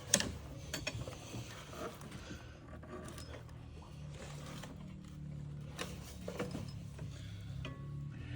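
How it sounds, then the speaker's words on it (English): Close, intermittent ratchet clicks and metallic tool clatter come from loosening low bolts on the side support bracket of a plastic intake manifold on a 2017 Jeep Wrangler, with short bursts of clicking and no talking. "You have to loosen this side support bracket for the intake to come off, and the bolts are all the way down here in the bottom."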